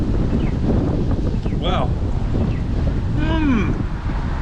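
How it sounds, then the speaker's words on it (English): Strong wind buffets the microphone outdoors on a Winnipeg street, a constant loud rumbling roar throughout, with people talking over it. "Getting very, very windy."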